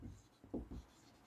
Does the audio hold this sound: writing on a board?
yes